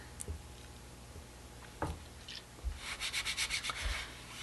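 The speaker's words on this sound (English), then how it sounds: "And you can burnish it." Rapid rhythmic rubbing as a silkscreen is burnished onto clay, a burst of close, steady back-and-forth strokes near the end after a few scattered soft taps and scrapes.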